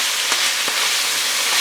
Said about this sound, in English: I got the hamburger meat on the stove, and we'll start with that.